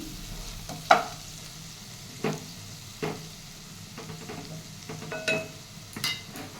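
Egg chilli being stirred as it fries in a pan with chilli sauce: a soft sizzle under a few distinct scraping strokes of the spoon, spaced about a second apart, close and fairly quiet.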